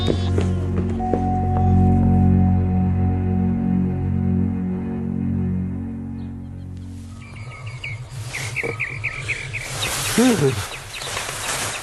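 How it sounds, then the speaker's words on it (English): Birds chirp and trill in the morning, short bright calls rising over a quieter background after a stretch of music, moderately close and continuing to the end. "Birds."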